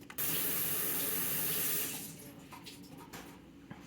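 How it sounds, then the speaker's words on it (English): Leeks are rinsed under a running kitchen tap. A steady, loud rush of water splashes into the sink for about two seconds, then cuts off, leaving faint drips and light handling noises. "there's like dirt in the leek, so usually you want to give them a good rinse."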